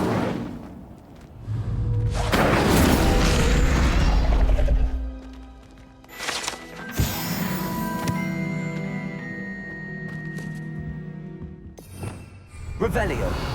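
A fire spell cast in Hogwarts Legacy, heard as a loud whooshing burst with crackling impacts and thuds among other spell effects and game sounds, with a voice speaking the spell names.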